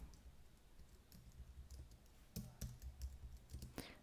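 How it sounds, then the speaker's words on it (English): Keys tapped in a quick, irregular run on a computer keyboard while a Linux firewall command is entered, faint clicks near the mic with a few louder strokes. "let's type in sudo firewall-cmd"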